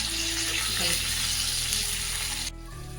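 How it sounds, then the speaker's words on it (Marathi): Stuffed brinjals frying in a pan as they are turned, a continuous close sizzle with a brief shuffling clatter partway through, then the hiss drops away suddenly near the end, leaving a low hum. "वांगी आपल्याला थोडीशी पलटून घ्यायची आहे एका बाजूने थोडीशी फ्राय झाली आहे"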